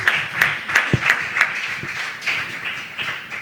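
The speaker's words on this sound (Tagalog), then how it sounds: "Malakas na palakpak sa ating mabait na Diyos." Congregation clapping at a church preaching service, a loose run of distinct claps and taps that thins out after the first second or two, fairly close and with no voices over it.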